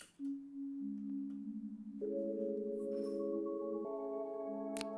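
A soft synth pad, blurred with EQ and effects, holds sustained chords that shift upward in stacked layers, smooth and airy, with a faint click near the end and no voices.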